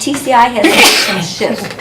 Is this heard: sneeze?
yes